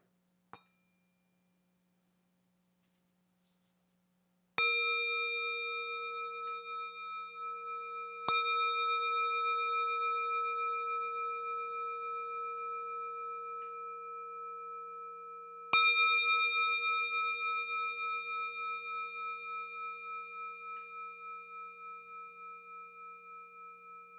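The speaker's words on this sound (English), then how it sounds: "let's enjoy a few sounds of the bell and remain present with your breathing." A mindfulness bell is struck three times, each ring sustaining a clear, pure tone that fades slowly before the next strike, with no one speaking over the long resonance.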